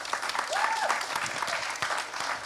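Audience applause at a climate justice and human rights session during COP26, a steady wash of clapping throughout, moderately distant and fairly subdued, with a brief tonal whine near the start.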